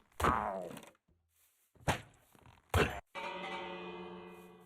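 A Minecraft village bell rings during a raid, struck in three sharp metallic hits about a second apart, then settling into a long, sustained ringing tone that lingers loudly to the end.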